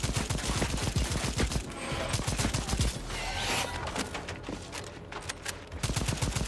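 Rapid, loud gunfire from the 2021 dinosaur-hunting shooter Second Extinction on PC, dense overlapping bursts like automatic weapons firing continuously, with a brief lull midway before the volleys resume.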